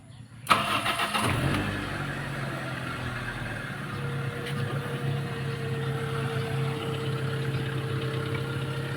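A car engine cranks and catches with a sudden loud start, then settles into a steady, even idle that continues close by without talk.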